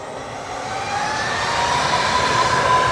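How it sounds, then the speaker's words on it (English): An EasyJet jet climbing away after takeoff at Manchester Airport gives a broad, steady roar that slowly grows louder over a few seconds, heard from a distance with no talking. "The EasyJet that just took off."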